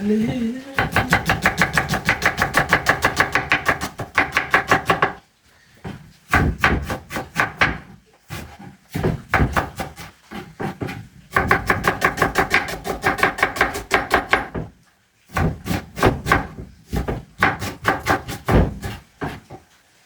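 Onions chopped on a board with a knife, fast steady rhythmic taps in long runs separated by short pauses, close and crisp, with no talking over them.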